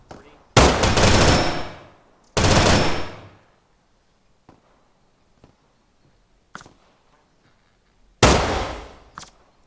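Loud, close bursts of machine gun fire in an island takeover battle come in several sustained volleys separated by pauses, with a few single sharp cracks between them and no voices.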